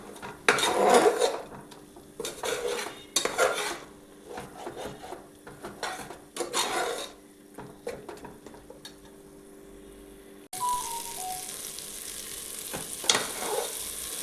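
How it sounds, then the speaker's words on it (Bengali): Spice paste with green chili paste fried and stirred in a pan for mutton kosha, with scraping, sizzling bursts and utensil clatter against the pot, fairly close and steady. "তাই জন্য আমি কাঁচা লঙ্কা বাটা দিলাম। মশলাটা খুব ভালো করে কষাবো।"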